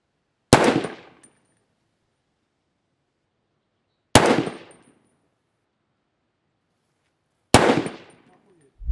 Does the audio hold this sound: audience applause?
no